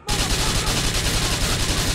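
Rapid automatic gunfire from a gun in Grand Theft Auto 4, a loud, dense stream of shots that starts abruptly and rattles on without pause.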